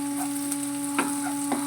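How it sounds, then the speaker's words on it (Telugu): Sliced onions frying with a pinch of ginger paste in hot oil in a pan, a steady soft sizzle with a couple of light scraping stirs, close and alone, no voices. "ఆనియన్స్ బాగా ఫ్రై అయ్యాయండి"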